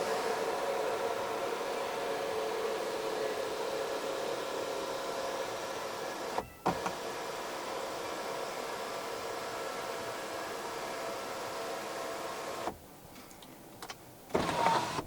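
Electric motor of the panoramic sunroof shade in a Chery Tiggo 7 PHEV plug-in hybrid SUV, a steady whirring hum running for several seconds, broken by two short clicks and a stop-and-restart near the end.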